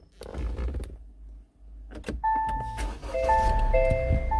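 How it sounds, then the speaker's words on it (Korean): A 2016 SsangYong Tivoli Air is started with a smart key, giving a brief starter whir and then a steady idle hum mixed with electronic chimes and beeps inside the cabin. "시동 한번 걸어보겠습니다 스마트 키거든요"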